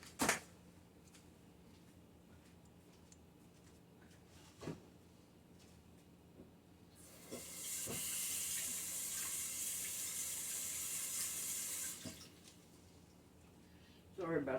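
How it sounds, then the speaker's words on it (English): Water runs from a kitchen tap as hands are rinsed during baking, a steady close splashing stream lasting about five seconds, with a few clunks before and after. "I had to rinse my hands off."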